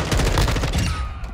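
Rapid automatic gunfire from a Modern Warfare M4 class in a video game comes as a dense, loud burst of quick shots in a fast rhythm that tapers off near the end.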